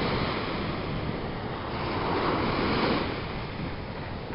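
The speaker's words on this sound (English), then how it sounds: "you'll be able to hear the Atlantic Ocean" Atlantic Ocean surf at night rolls in as a steady, broad wash of breaking waves, loud and close, with some wind rumble on the microphone and no voices.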